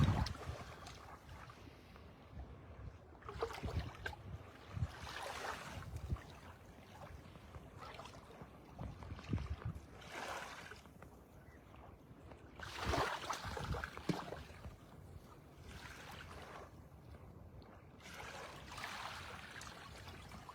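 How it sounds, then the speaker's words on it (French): Small ripples of water lap gently close by outdoors, a soft, steady, irregular washing with faint wind, quiet and continuous with no voices. "Je sais qu'il y a les petites vaguelettes de l'eau derrière"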